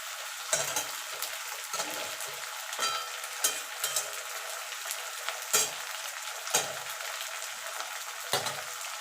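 Neem leaves fry in hot oil in a wok with a steady, close sizzle, broken every second or so by short clattering scrapes of stirring.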